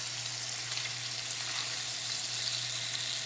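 Sausages frying in a pan make a steady, even sizzle that crackles continuously at moderate loudness over a low hum, with no voices.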